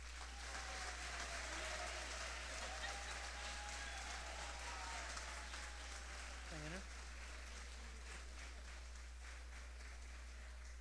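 Applause from an audience at a festive Brooklyn Latino heritage celebration, a steady broadband patter of many hands sustained throughout, with faint voices and tones mixed in beneath the clapping.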